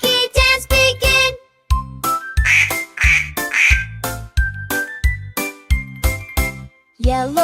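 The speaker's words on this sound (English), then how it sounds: "Quack, quack here, quack, quack there." A duck quacks in a children's nursery rhyme song, with rhythmic cartoon-style quacks set to bright jingling music, repeated in a bouncy pattern with short pauses.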